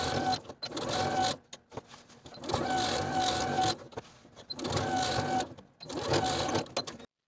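A sewing machine edge stitches the side and bottom edges of a jacket pocket, running in four steady mechanical bursts with brief pauses between them, close and clear.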